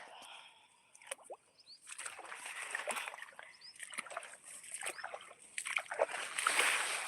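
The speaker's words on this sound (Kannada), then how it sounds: "ನೀವು ಶೇಂಗಾದ ಹೊಲಕ್ಕೆ ನೀರು ಉಣಸಾಕತ್ತೀನಿ ಮಧ್ಯಾಹ್ನದಿಂದ ಬಂದೆ ನಾನು" Irrigation water splashes and sloshes through a peanut field in uneven close bursts, with faint trickling between the louder gushes.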